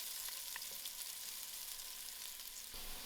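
Chopped onions fry in oil in a pan with a quiet, steady sizzle and crackle, a few light stirring clinks and scrapes breaking through.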